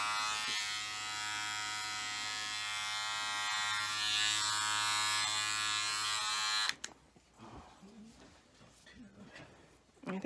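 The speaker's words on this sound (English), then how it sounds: "You're using a vacuum brush to brush my hair?" A vacuum hair brush runs over a person's head with a loud, steady, close buzzing whine that cuts off abruptly partway through, followed by quieter rustling and talking.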